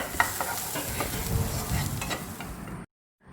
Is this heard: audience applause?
no